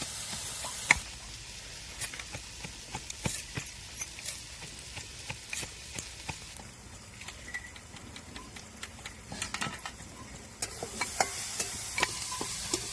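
Onion fries in a little oil in a pan, reddening, with a continuous low sizzle broken by frequent light clicks and scrapes of stirring, close and moderate in level throughout.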